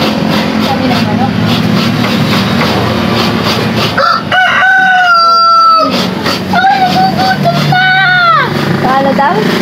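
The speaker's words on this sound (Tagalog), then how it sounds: "Sabi ng manok." A rooster crows loudly and close in a yard several times in succession, its long rising calls cutting over a steady background drone, with people talking faintly before the crowing.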